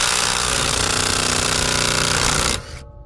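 Bauer 20V brushless bit driver removing lug nuts, a loud, continuous rapid hammering impact rattle that runs steadily for over two seconds, then cuts off abruptly into a brief fading whir.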